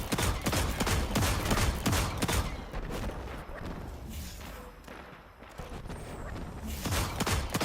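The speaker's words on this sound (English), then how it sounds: "And I get some hand cannon kills." Hand cannon fire in a Grandmaster Nightfall mission of the game Destiny, with rapid, loud shots in bursts that thin out in the middle and pick up again toward the end.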